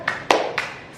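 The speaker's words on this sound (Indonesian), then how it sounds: "Tepuk tangan" A few separate claps from schoolchildren in a first-grade classroom, three sharp bursts spaced across a second, fairly close and moderately loud with no talking.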